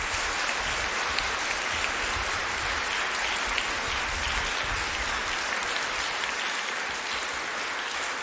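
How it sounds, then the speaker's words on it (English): Sustained, steady applause from the audience at a student debate tournament final, a dense even roar of clapping that holds at the same level throughout with no talk over it. "He deserves a warm round of applause."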